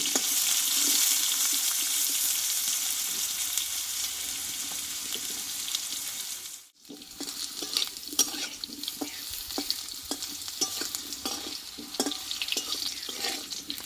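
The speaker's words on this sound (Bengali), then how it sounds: "এই তেলেই আমি আলুটা একটু কষে নেবো ভালোভাবে" Potatoes frying in hot oil for a thin fish curry, a steady loud sizzle with spoon scraping and stirring clatter throughout, briefly cut off near the middle before resuming.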